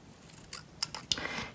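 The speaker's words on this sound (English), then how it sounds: "So I'm going to cut out 2 triangles for the ear" Scissors snipping through paper while cutting out small triangles, a few quiet, crisp clicks and slicing sounds spaced irregularly over faint room noise.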